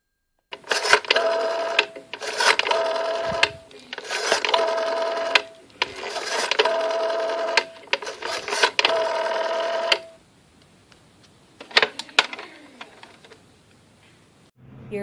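A rotary telephone being dialed to call the police, heard as several bursts of whirring, clicking dial rotations separated by short pauses, followed by a few faint clicks as the receiver settles.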